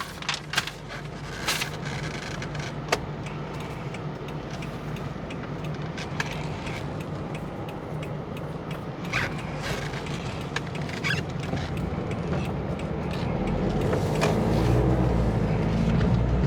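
A 2018 Isuzu D-Max 1.9 Cab HiLander Z-Prestige pickup with automatic transmission driving, a steady engine and road drone heard from inside the cab, building slightly toward the end, with occasional knocks.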